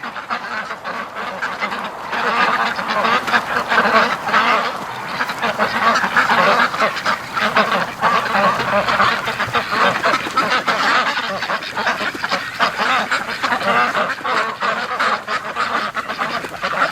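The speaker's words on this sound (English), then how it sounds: "the ducks coming home" Muscovy ducks returning home across a swampy lake give a steady, overlapping chorus of quacks and honking calls, moderately close and continuous, with no voices.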